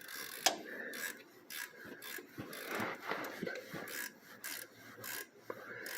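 A ratchet wrench tightens 14mm nylock nuts on a Polaris RZR 800 engine, giving short repeated rasping clicks in bursts with brief pauses, close and fairly quiet.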